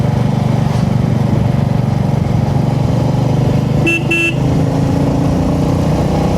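Motorcycles ride past in dense morning road traffic on the way to Tamini Ghat, engines droning steadily and loudly, with two short horn toots near the middle and a car horn tone after.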